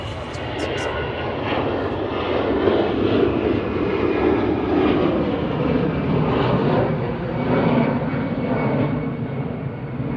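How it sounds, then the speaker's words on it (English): An EasyJet jet airliner departs from Manchester Airport with a loud, sustained engine roar that swells gently and holds for several seconds, starting with a few brief high clicks. "EasyJet departing to Amsterdam."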